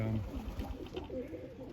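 Racing pigeons, including white birds and Birmingham rollers, coo in a loft with soft low murmuring calls over steady background noise, and someone talks over them.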